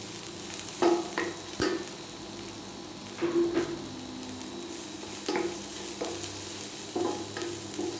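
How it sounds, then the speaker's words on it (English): Prepared onions frying with garlic in a pan for homemade pizza topping. They hiss in a steady sizzle while a spoon scrapes the pan every second or so, close and moderately loud, with no voices. "I'm going to put in the onions, prepared onions. And stir it."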